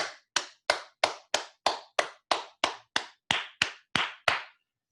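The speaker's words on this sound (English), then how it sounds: "how about a big round of applause for the instructional staff here, the administrative staff here," A single pair of hands claps slowly and evenly, about thirteen crisp, close claps in a steady rhythm, then stops, offered as applause for instructional and administrative staff at a capstone event.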